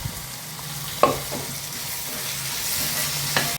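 Peas and carrot sautéing in a pan, a soft continuous sizzle with a couple of sharp stirring clinks.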